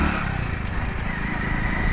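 A motorcycle engine runs steadily and loudly throughout, a continuous close rumble with a constant droning tone and no talking.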